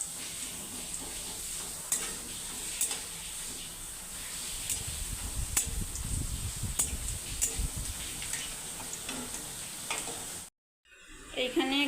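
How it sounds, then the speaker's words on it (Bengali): Meat braises in a pot on a gas stove, sizzling steadily up close with frequent sharp ticks and scrapes of stirring, then a short break near the end. "এইখানে গ্যাসে মাংস কষা হচ্ছে।"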